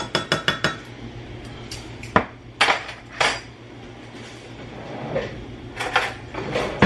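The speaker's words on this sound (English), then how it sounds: "So now I'm going to stir this up." A spoon scrapes and clinks against a pot while stirring a cornstarch and milk mixture, with a quick burst of sharp metallic taps, then scattered knocks and soft scraping at close range.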